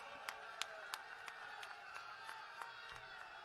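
Crowd at a political rally in Amritsar, Punjab, clapping in scattered, distant rhythmic claps with a faint cheer under a steady murmur of noise.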